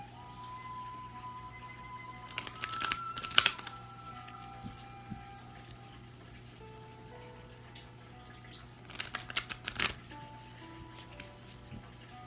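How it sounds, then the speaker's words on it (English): A deck of playing cards is shuffled in two quick riffling bursts, a few seconds apart, soft and close against a quiet room with a steady low hum. "I should get a good shuffle on these cards for her."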